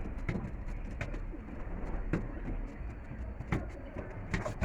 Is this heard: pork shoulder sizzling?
no